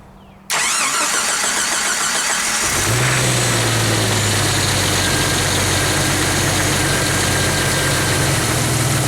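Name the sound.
Jeep engine starting and idling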